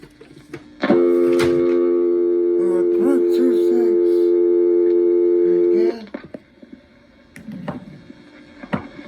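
Dial tone from a 1977 Stromberg ESC telephone exchange in Warwick, New York, a steady precise dual tone switching on almost instantly after a handset click and holding for about five seconds before cutting off, followed by faint handling noises.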